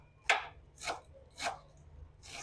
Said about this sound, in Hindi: अब हम अपने पालक को भी चॉप कर लेते हैं